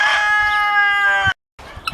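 Chickens being let out of their coop onto a small farm, a rooster crowing loudly and close with a long sustained call, then a brief silence before clucking resumes.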